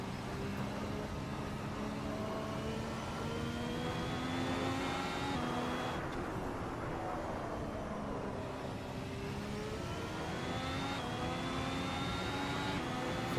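A Ferrari engine in the racing game Assetto Corsa hums steadily at high revs, the pitch sliding up and down through gear changes, continuous and fairly quiet with no talk over it.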